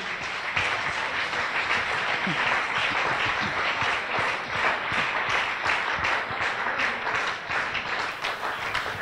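Congregation at a French church blessing service applauding, a continuous patter of many hands at moderate volume with individual claps standing out, lasting several seconds without speech.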